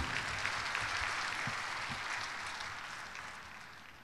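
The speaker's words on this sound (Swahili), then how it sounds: "Makofi mengi, tumtie nguvu mkurugenzi mkuu." A crowd claps for the director general at a VETA anniversary ceremony in Tanzania, steady sustained applause with scattered sharper claps that slowly fades toward the end.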